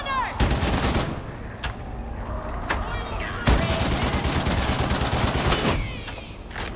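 A gunner enemy firing in Warhammer 40,000 Darktide, heard as sharp bursts of gunfire and rapid volleys mixed with loud game noise, fairly close and heavy throughout.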